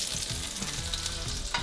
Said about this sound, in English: we're going to go ahead and throw our vegetables into this grease